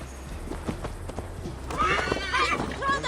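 Horse hooves clip-clop in Assassin's Creed Valhalla, a steady rhythm of close footfalls, followed by a horse's loud whinny near the end, with a voice speaking over the hoofbeats.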